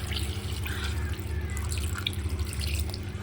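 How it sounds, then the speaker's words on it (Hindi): Water trickling and splashing steadily into a pot of beef trotters, with a low hum running underneath. "पानी ऐड कर देंगे कि पाए डिप हो जाएं।"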